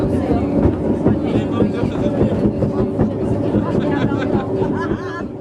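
A small mountain train in the Basque hills rolls steadily along the railway at about 8 km/h, its rumble and rhythmic clatter continuous throughout while a voice narrates over it.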